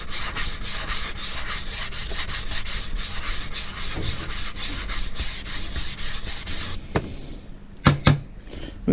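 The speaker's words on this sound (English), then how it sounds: "We remove the surface rust." Surface rust is rubbed and filed off a hand sickle blade in a steady run of fast, even rasping strokes, close and loud, then it stops and a few sharp metallic knocks and clinks follow.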